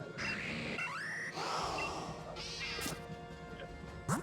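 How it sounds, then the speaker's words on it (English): A cat meows several times in quick succession, rising and falling cries close by over steady background noise, with a brief chirp near the end. "Meow."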